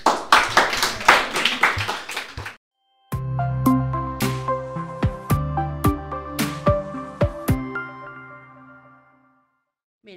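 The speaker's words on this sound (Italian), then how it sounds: "Un bel applauso anche a voi." A first-year middle school class in Capalbio claps for about two and a half seconds of brisk, fairly close applause. After a short silence, struck musical notes take over.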